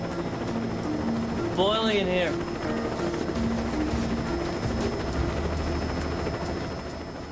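Steady, loud rotor and engine drone inside a helicopter flying over open sea, a constant roar filling the cabin while a person speaks briefly over it.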